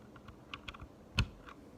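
A handful of separate keystrokes on a mechanical keyboard with lubed Gateron Red switches, close and fairly quiet, with one sharper, louder clack in the middle.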